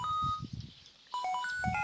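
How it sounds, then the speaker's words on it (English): A phone rings in the Pokémon White 2 video game as a series of short electronic beeping tones, loud and close, following a stretch of game music and chiptune sounds. "Who's ringing my phone?"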